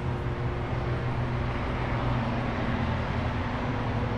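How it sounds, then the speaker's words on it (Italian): An airplane passes overhead as a steady, loud, broadband roar filling the whole stretch without letting up, with no voices present. "non so se si è sentito l'aereo"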